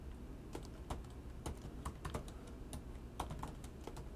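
Typing on a computer keyboard while entering a library search in the Arduino software, with irregular clusters of sharp key clicks spread evenly through the clip at close range and no voice.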